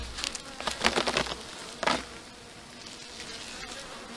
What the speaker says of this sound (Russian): вот они там уже ругаются, пчелки